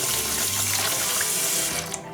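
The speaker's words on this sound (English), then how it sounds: "I should have put some water into my bowl here" Tap water runs steadily into a shaving bowl for a vintage shaving scuttle, a close, continuous splashing rush that tapers off near the end.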